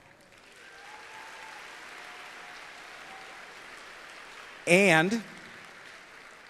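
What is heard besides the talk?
audience applause for sponsor Magna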